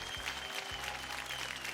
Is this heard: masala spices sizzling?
no